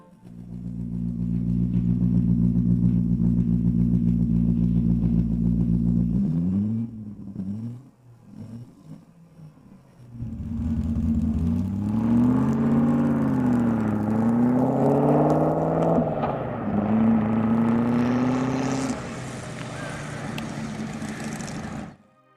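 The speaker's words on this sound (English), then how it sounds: "it boasts the most compact V8 in the motorcycle world" A homemade 392 cc V8 motorcycle engine runs, first as a steady low idle, then goes quiet briefly before rising and falling in loud revs with a whirring, climbing pitch, close by and without talk.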